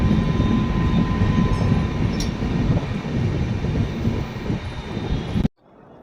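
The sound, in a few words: Rajdhani Express train at Okhla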